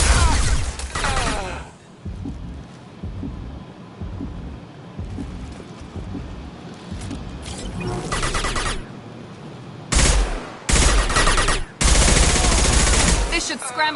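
Bursts of loud automatic gunfire rattle in Mass Effect 2 combat, several rapid volleys separated by quieter gaps, with voices calling out between shots.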